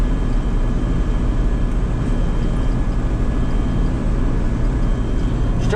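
A combine harvester's rotor winds up with the straw chopper unhooked, harvesting barley. A loud, steady low mechanical roar and drone holds close and constant throughout, with no voices.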